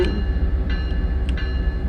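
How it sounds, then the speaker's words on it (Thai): A Baby Bullet train pulls into a station in Train Sim World 2020, a steady low rumble with faint rail clicks and a soft high tone, close and even throughout with no voices. "The train's here"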